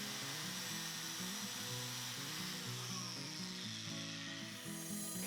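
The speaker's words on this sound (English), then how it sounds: "I next used the dual dowler in order to put a dowel joint at the peak of every single curve" Dual dowel drill boring dowel joint holes in walnut for a kitchen dining table, a steady high whining drill sound with shifting pitch as the bits cut, close and continuous.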